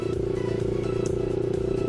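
A 200cc six-speed motorcycle engine runs close by with a steady, throbbing drone and rapid pulsing exhaust note, holding a fairly even pitch over the short stretch.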